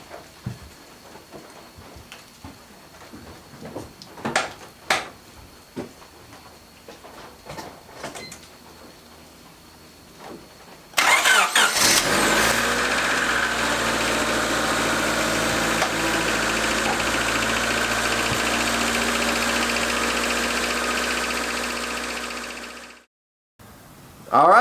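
An older Honda Civic fresh from a head gasket repair cranks and catches, then settles into a loud, steady idle that runs a little high. Before the start there are faint clicks and handling noises, and the engine cuts off abruptly near the end.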